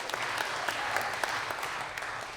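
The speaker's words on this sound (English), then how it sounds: "I appreciate your Pavlovian applause" A studio audience at a live comedy show claps steadily, dense applause with individual sharp hand claps standing out over a short stretch, no speech.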